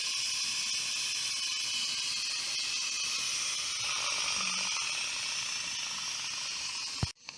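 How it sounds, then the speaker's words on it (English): An Instant Pot releases the last of its pressure as a steady, close hiss of escaping steam that holds throughout, ending with a sharp click. "Okay, so this is still fizzling out here, a little bit of steam"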